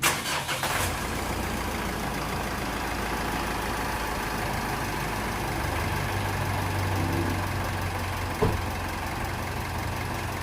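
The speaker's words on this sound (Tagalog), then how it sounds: "Moment of truth, start na natin ang makina." A Mitsubishi Montero Sport engine, just reassembled after an intake manifold cleaning, cranks and catches in a quick burst at the start, then settles into a steady, even idle that runs alone for the rest of the clip.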